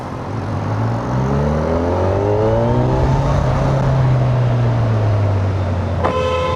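Kawasaki Versys 1100 inline-four motorcycle engine while riding, a loud smooth whine whose pitch rises and falls through the gears, with steady wind rush and a brief high tone near the end.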